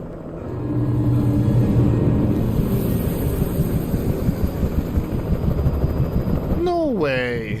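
Helicopter in the video game Alan Wake, a steady loud rotor rumble holding throughout, with a brief rising-and-falling tonal sweep near the end.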